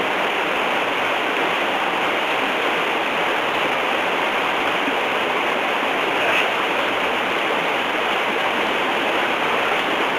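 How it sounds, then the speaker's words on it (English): A little creek flows down a hillside toward a river, giving a steady, continuous rushing wash of water that stays loud and even throughout with no voices. "washed along by this little creek, down the hillside and into the river there"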